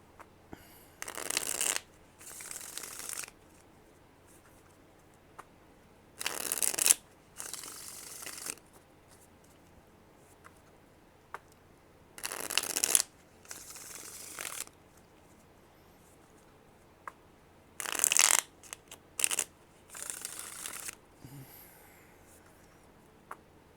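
An old 130-year-old deck of playing cards is shuffled in repeated short bursts of riffling and flicking, each lasting a second or two and separated by quiet pauses, close and fairly soft.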